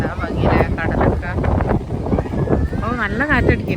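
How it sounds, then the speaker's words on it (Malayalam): Strong wind at a beach corniche buffets the microphone in heavy rumbling gusts throughout, with people talking and a voice over it. "നല്ല കാറ്റടിക്കുന്നുണ്ട്."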